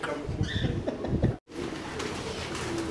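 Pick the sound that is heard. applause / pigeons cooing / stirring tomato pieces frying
pigeons cooing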